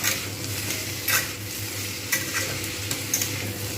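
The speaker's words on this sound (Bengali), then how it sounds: "এটা একসঙ্গে ভাজা হতে থাকবে আলু এবং কুঁদরি" Ivy gourd and potatoes frying together in a pan, a continuous close sizzle broken by several sharp scraping stirs of a spatula against the metal.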